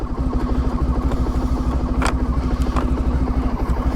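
A 1994 Honda ST1100 motorcycle idling just after starting without choke, a steady, even low mechanical throb with a fast regular pulse, close and loud, alone.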